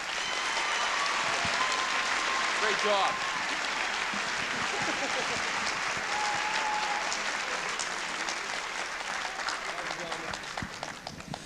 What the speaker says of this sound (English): I'd like you to give them a round of applause also.